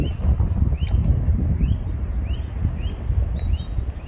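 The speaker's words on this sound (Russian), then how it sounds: "Птички запели." Small birds chirp and sing in repeated short calls outdoors in a snowy spring forest, fairly distant and set against a steady rush of wind and rustling.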